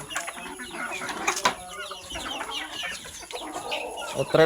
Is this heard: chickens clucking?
yes